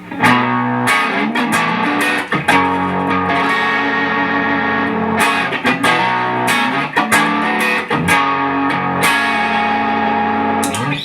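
An electric guitar plays through MXR and Moog pedals into a Marshall Origin 50 amp, slightly overdriven with a gritty, sustained tone, loud and close, with chords ringing and bright strummed attacks throughout.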